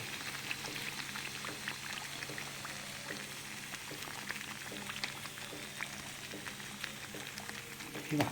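Whole mushrooms sizzle gently in a pan over a low gas flame, a soft continuous crackle and bubbling with scattered pops, close and steady throughout.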